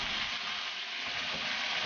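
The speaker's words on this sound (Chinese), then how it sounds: "鱼下锅后一定要用大火，保持锅的表面温度。 等能够轻易滑动了，就可以用小火了，慢慢把鱼肉煎透、煎熟。" Sand whiting sizzles as it pan-fries in a hot wok, giving a steady, close crackling hiss with no talk over it.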